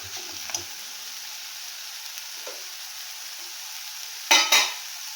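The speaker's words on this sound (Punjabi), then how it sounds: "ਸਾਡਾ ਪਿਆਜ਼ ਤੇ ਟਮਾਟਰ ਭੁੱਜ ਗਿਆ" Onion and tomato frying in a pan give off a steady, quiet sizzle with a few stirring scrapes, then two louder bursts near the end as the pan is stirred.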